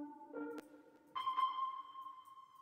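A synthesizer melody plays a few sustained, bright electronic notes, a short lower phrase followed by a longer held high tone, clear with no other sounds.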